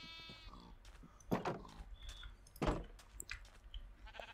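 Sheep bleating in the video game Minecraft, several separate bleats at moderate loudness, two louder calls standing out over a faint background with no talking.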